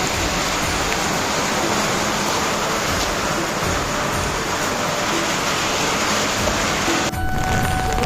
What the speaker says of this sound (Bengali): প্রচুর পরিমাণ বৃষ্টি, বজ্রপাত